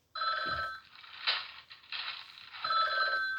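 A phone rings in the Talking Ben app game, a bright electronic ringing tone repeated in bursts with a small mechanical clatter between rings, fairly quiet and heard without talk.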